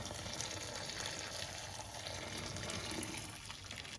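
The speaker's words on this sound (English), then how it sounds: "we will take this hot water and pour it all over this filter" Hot water pours over a greasy kitchen hood filter in a sink, a continuous splashing gush of running water, close and fairly soft, steady throughout with no talking.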